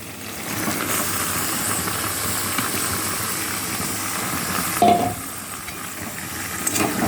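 Marinated chicken hits hot oil with frying ginger-garlic paste for a chicken curry, giving a steady close sizzle and hiss, with a brief stirring clatter midway and no talking.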